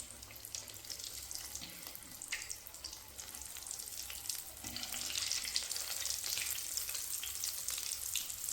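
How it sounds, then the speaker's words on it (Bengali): Vegetable chops frying in hot oil in a wok, a soft, continuous crackling sizzle that grows a little louder partway through and carries no talk. "এবার কিন্তু আমরা চপগুলোকে বেশ ভালো করে একটু ভেজে নেব।"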